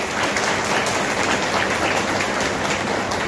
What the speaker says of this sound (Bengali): মিস্টার দেবাশিস রায়ের জন্য একটা জোরে হাততালি।